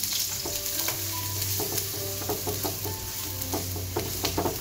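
Garlic sautés in hot oil for spicy noodles, giving a dense, continuous sizzle with frequent spatula scrapes and stirring clatter, close and fairly loud, with no talking.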